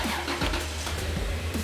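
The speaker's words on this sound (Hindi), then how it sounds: "गाड़ी स्टार्ट हो गई है" An older car started by remote key fob, its engine catching and settling into a low, steady idle close by for a brief moment.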